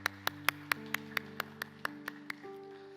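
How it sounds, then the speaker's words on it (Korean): Congregation clapping in a church during a Sunday service: about a dozen sharp, evenly spaced claps in a steady rhythm over a sustained organ or keyboard chord, fairly quiet and slightly distant. "영광의 박수 올려드리겠습니다."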